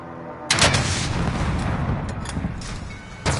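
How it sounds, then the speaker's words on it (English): A rocket launcher blast in an online shooter game hits hard at the start, then a long rumbling roar trails off, with sharper cracks of gunfire near the middle and another loud burst at the end. "that nigga really shot me with a fucking rocket launcher"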